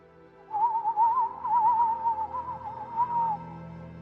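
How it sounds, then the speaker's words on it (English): A single soft, melodic whistle wavers and trills for about three seconds, like wind through a hollow reed, rising and falling gently over a quiet background with no talking. "the Forest Lord raised his hand and let out a soft, melodic whistle that sounded like wind through a hollow reed"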